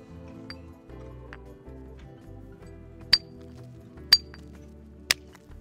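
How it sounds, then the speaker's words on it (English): Three sharp stony clinks ring out about a second apart as a chert nodule is struck in flint knapping to knock off flakes. Each strike is crisp and close over a quiet low hum. "I'm going to strike the rock and produce some useful flakes from this nodule."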